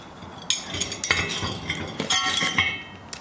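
Cast iron parts of a La Nordica Milly Italian wood cookstove clink and clatter while being unpacked and handled, a series of close, sharp metallic knocks and rattles in quick irregular succession.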